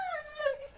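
A dog whimpers excitedly as its owner arrives, a single faint, high, drawn-out whine lasting under a second, sliding gently downward at close range.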